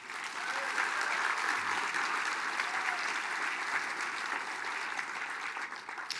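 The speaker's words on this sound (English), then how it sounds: "One more round of applause, please." A large audience at the Mille Lacs Band of Ojibwe State of the Band event gives a sustained round of applause, steady and dense throughout, heard from some distance in a big hall.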